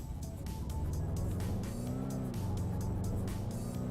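C46 car engine revving in the racing game Redline Racing, a loud continuous engine drone that climbs in pitch without fully reaching the redline, steady throughout.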